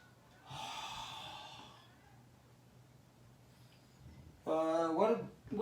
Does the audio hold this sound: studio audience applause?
no